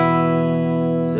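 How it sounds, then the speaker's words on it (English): A single sustained electric guitar note or chord rings out with a clean, undistorted tone, no overdrive. "Obviously, we have a nice clean tone here."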